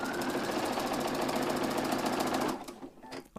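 A sewing machine embroiders eyelashes on a Rosie the Zombie doll face, its needle hammering in a fast, steady, close-up stitching rhythm for about two and a half seconds before stopping abruptly, leaving faint clicks.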